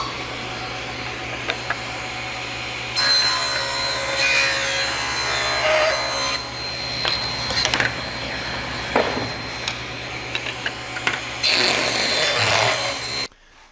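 A table saw rips wooden tray sides to width, a loud steady whine of the running blade with cutting passes that rise and drop across the clip, close and without talk.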